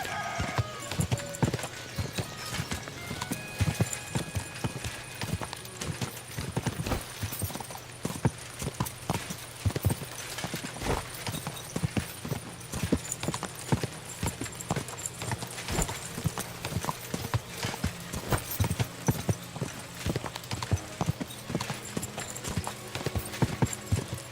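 Horse hooves clip-clop steadily on the ground in the medieval video game Kingdom Come: Deliverance II, a continuous rhythmic gait close by with faint ambient game sound underneath.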